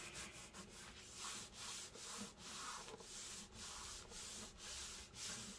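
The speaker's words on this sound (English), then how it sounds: "And then I'll open it all up and give it a good rub." Paper being rubbed flat on a file-folder junk journal, heard as continuous close scratchy rubbing strokes in a quick, uneven rhythm with short breaks between passes.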